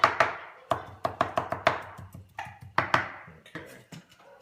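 A knife chops green chili on a cutting board in a run of about a dozen sharp, close taps, some quick and clustered, others spaced out and fading toward the end.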